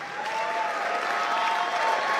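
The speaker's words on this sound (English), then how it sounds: "Can you just give yourself a really big hand clap?" Audience at an interfaith conference applauding, a steady, dense wash of hand clapping from a sizable crowd with no voices on top, holding even throughout.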